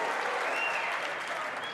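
Snooker crowd at the 2024 Masters quarter-final between Ronnie O'Sullivan and Barry Hawkins applauding a shot, a steady, dense burst of clapping from a large audience, filling the whole moment without a break.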